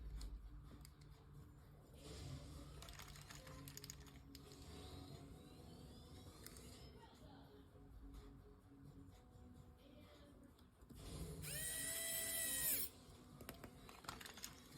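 A power screwdriver drives a screw into a Nintendo Switch during a fan replacement. After quiet handling and small clicks, the tool whirs loudly for about a second and a half near the end, then stops.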